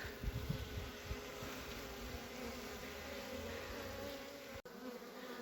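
Dense, steady buzzing of many honeybees around a hive in an apiary in early March, close and continuous, with a few soft thumps early on.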